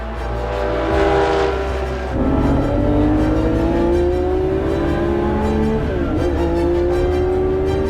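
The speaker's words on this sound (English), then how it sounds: "This is Alexander Ritwega's Ferrari Daytona" A Ferrari Daytona race car engine revs loud and close during the Tour Auto road rally, its pitch rising and climbing through gear changes in a steady, continuous roar.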